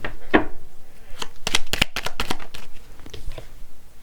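Tarot cards are handled, shuffled and laid down one after another in quick close snaps and flicks, with short gaps between the bursts.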